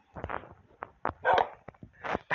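A tamed dog in Minecraft 1.21 barks in a run of short, sharp yaps with brief gaps between them, fairly close and clear with no talking.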